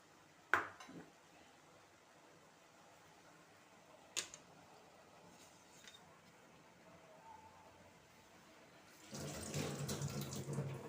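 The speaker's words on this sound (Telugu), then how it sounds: "ఇప్పుడు ఫైనల్గా చింతపండు పులుసు పోయాలి." Tamarind extract is poured into a cooking pot, a short splashing pour of liquid near the end following a few faint knocks and clicks in a quiet kitchen.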